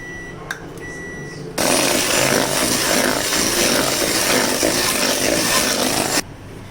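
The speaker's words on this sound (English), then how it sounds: "So first we will beat our castor sugar and half cup of refined oil nicely." Electric hand mixer beating castor sugar with refined oil in a bowl for a teacake batter, a loud continuous buzzing whir that starts abruptly and runs steadily for about five seconds before cutting off.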